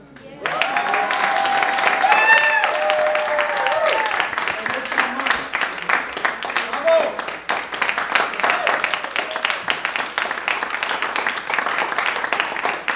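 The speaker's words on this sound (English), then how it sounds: "a big applause for both of them" Audience applause for performers at an evening stage show, sustained loud clapping from a crowd with some cheering tones early on, continuing steadily throughout.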